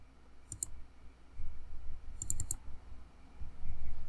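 A computer mouse clicks close by, with one quick double click and then a faster burst of three or four clicks over low background hum.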